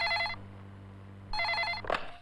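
A telephone rings in two bursts of bright trilling tones, the second cut short as a loud knock or pickup follows, heard in a tense scene with a steady low hum underneath.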